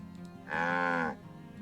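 A single drawn-out cow moo in the video game Farthest Frontier, loud and close, rises from a quiet background and ends cleanly after about half a second.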